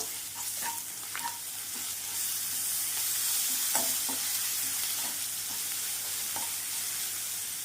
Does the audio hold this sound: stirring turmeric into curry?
yes